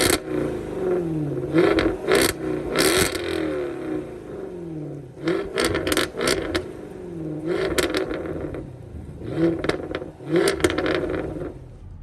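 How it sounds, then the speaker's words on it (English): A 2016 Jaguar F-Type R, set in dynamic mode, cranks and fires up, its exhaust rising in loud repeated revving bursts that swell and fall several times over a steady rumble. "Put a foot on the brake and hit the button to start."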